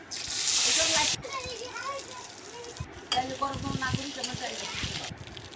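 Dal simmering and sizzling in a pot on a home stove, a bright frying hiss that bursts loud for the first second and then continues at a lower, bubbling level under voices talking nearby.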